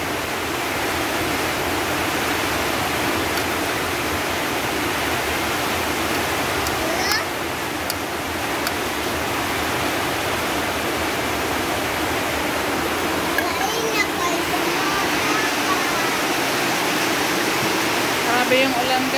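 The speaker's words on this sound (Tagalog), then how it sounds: "Grabe yung ulan guys." Heavy rain pours in a steady, dense hiss that never lets up, heard from indoors near a kitchen, with faint voices now and then.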